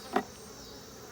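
Honeybees crowd a frame lifted from a brood box, giving a faint, steady hum with one brief, louder buzz near the start.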